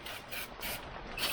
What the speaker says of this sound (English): just spray them out.